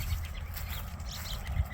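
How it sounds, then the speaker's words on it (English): Birds chirp outdoors near a community center and schools. Faint, scattered chirps sit over a steady wash of background noise like distant traffic. "Birds are chirping away."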